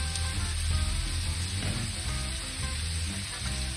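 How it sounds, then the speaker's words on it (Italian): Onions browning uncovered in a pot for an Italian finta genovese, giving a steady, close sizzle with faint stirring noises throughout. "Si sente lo sfrigorio delle cipolle, quindi vuol dire che si stanno rosolando"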